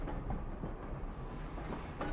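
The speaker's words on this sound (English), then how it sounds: "Whoa, this tram's not stopping." A tram rolls past without stopping, a faint low rumble of wheels on rails with soft rattling, heard alone and at a distance.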